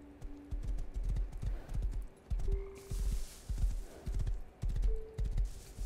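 Rhythmic clip-clop of horse hooves galloping at a steady pace in the video game Rust, close and fairly loud, with game-like background tones.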